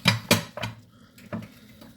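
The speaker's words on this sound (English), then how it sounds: "I'm gonna stir this around." A spoon knocks and scrapes against a pot of black bean chili on a stovetop's lowest setting, a few sharp close clinks in quick succession followed by softer taps.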